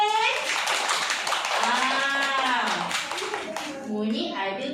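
A young child claps his hands during a Malay literacy lesson, a few light claps mixed in with a voice and adult talk.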